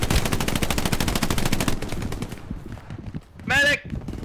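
Rapid automatic gunfire from the World War II shooter game Hell Let Loose rattles loud and close for about two seconds, then tails off, followed by a brief voice near the end.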